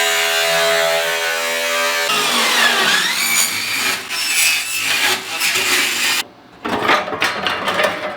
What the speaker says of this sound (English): I ended up finishing that cut off with the Diablo circular saw with the carbide tips.